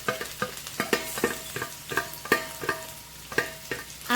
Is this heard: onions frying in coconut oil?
yes